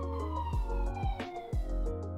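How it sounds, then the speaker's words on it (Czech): An ambulance siren sounds behind a speaker, rising and falling in repeated sweeping wails about half a second apart, moderately loud over low rumbling background. "pardon za kámo sanitku za mnou"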